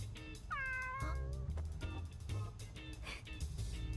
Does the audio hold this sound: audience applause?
no